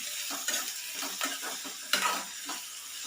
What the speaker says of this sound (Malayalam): ഇനി ഇത്രയും ചെറിയ ഉള്ളിയും കൂടെ എടുത്തിട്ടുണ്ട്, അത് ഇതിലിട്ടിട്ട് കൊടുക്കാം.